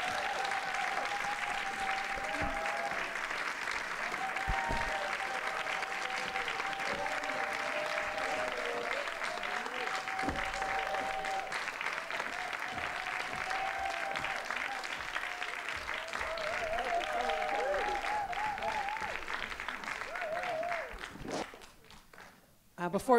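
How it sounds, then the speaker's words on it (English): Sustained applause from a seated audience at an authors' conversation event, steady and dense throughout before tapering off near the end as the clapping fades out. "Please give them a big round of applause."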